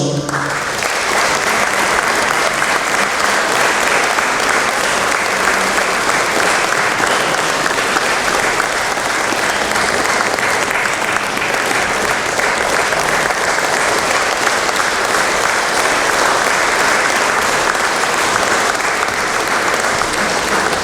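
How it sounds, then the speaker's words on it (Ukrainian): Sustained live applause from a crowd at a memorial award ceremony in Uzhhorod honouring fallen defenders, loud and dense clapping that continues without a break. "Живі оплески, які супроводжували кожне ім'я, як вдячність і обіцянка пам'ятати"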